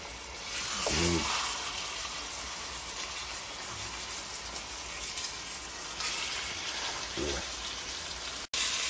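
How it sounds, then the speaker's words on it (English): Pork chops brown in a hot frying pan with a steady, hissing sizzle throughout. A couple of louder spits break through, and a voice is heard faintly at moments. "heat this up pretty good, this pan, and start browning them"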